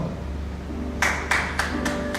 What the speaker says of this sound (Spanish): Le aplaudí a ella.